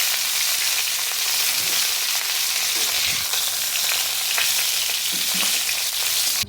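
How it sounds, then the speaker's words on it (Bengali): Cauliflower fries in oil in a wok, giving a dense, steady sizzle and crackle with occasional stirring scrapes, close and continuous. "তো বন্ধুরা আমার ফুলকপিগুলো ভাজা হয়ে গেছে, এবার আমি এগুলোকে একটা জায়গায় তুলে নিচ্ছি।"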